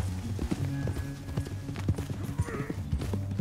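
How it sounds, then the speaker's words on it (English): Horse hooves clip-clopping at a gallop in Red Dead Redemption 2, a steady rapid drumming of repeated impacts close by with music or ambience underneath and a short whinny-like tone near the end. "On your horse, John."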